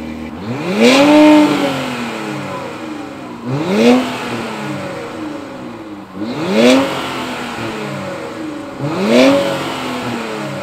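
Infiniti Q50 Red Sport 400 on its stock, rather muffled exhaust revs four times in a steady rhythm, each blip rising and falling in pitch over a constant idle hum, heard close and loud.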